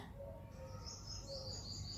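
Birds chirping and cooing in the early morning around 5 a.m., soft calls repeating over a faint, steady outdoor hum.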